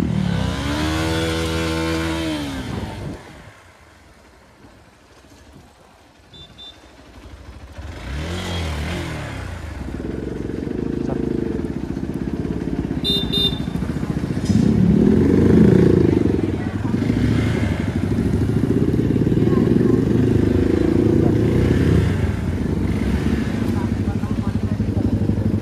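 A motorcycle engine about three months old runs and revs close by in Greater Noida, a steady mid-range rumble that swells and holds for most of the stretch, with people talking over it at the start.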